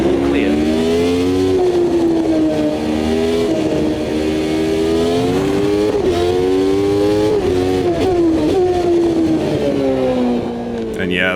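Race car engines from the Automobilista 2 sim racing game roar continuously, the pitch climbing and dropping through gear changes with sustained high revs, loud and close, with a voice talking over parts of it.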